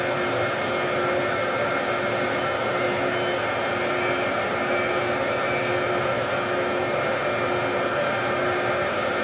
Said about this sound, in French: Où l'on voit parfaitement ici la matérialisation du faisceau laser qui découpe sur la partie mousse.